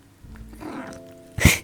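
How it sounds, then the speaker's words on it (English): A house cat lets out a short vocal sound, near and fairly loud, with a sharp burst at the end; it comes alone, without talk. "Oh, my cat is here. You may be able to hear him."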